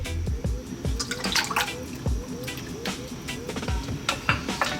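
Pork belly marinade for Chinese five-spice pork belly is poured into a wok, splashing and trickling with dripping liquid sounds in an irregular, close pour.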